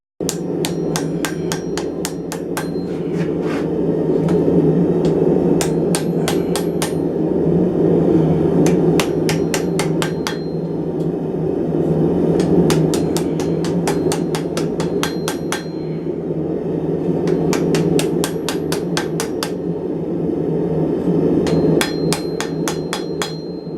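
A heated steel knife blade is hammered by hand to straighten it, with clusters of sharp ringing metallic strikes in rapid groups separated by brief pauses, loud and close over a low steady roar.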